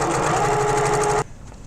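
Sewing machine stitching a muslin hanging sleeve onto a quilt, a loud, close, rapid steady whir with rhythmic needle pulses that stops abruptly, followed by quiet room sound.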